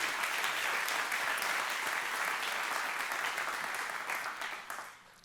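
A church congregation claps together in sustained, dense applause during a Spanish-language worship service, steady and full before tapering off near the end.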